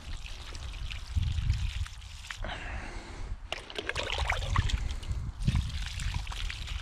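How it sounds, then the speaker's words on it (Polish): Water pours and trickles onto cabbage plants in a field, splashing in uneven bursts with brief pauses, close by and alone without talk. "troszeczkę ją podlejemy po prostu"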